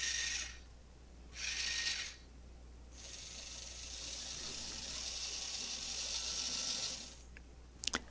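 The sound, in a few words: robot steering and drive motors running under computer control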